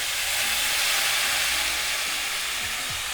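Sauce sizzling and hissing as it hits a hot pot of broccoli for orange chicken, a steady close, fairly loud frying hiss that continues evenly throughout.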